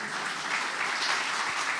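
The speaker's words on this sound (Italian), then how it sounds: "un applauso per favore" Applause from a live audience at a talk show recording, a dense, steady wash of many hands clapping at moderate distance with no speech over it.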